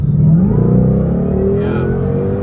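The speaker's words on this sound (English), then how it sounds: "Punch it here again. I'll let it do a downshift from third." A Shelby GT500 Mustang engine drones loud and close as the car downshifts from third. The pitch sweeps and rises under heavy throttle.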